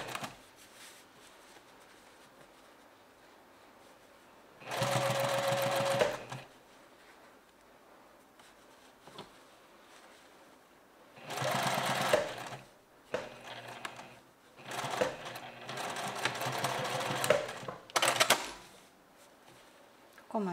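A sewing machine stitches fabric in three quiet, separate bursts of rapid, rattling clatter, with near-silent pauses between them as the work is repositioned.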